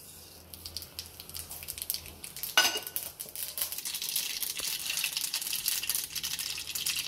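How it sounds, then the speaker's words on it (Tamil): Mustard seeds crackle and splutter in hot oil in a kadai while coconut rice is being made, a dense, close sizzle of rapid pops that builds after a sharp clink, with no talk. "கடுகு நல்லா பொரிஞ்சதுக்கப்புறம் கடலை பருப்பு உளுத்தம் பருப்பு"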